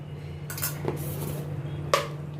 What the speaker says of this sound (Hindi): आलूओं को मैं अच्छी तरह से प्याज और टमाटर के साथ मिक्स करती हूँ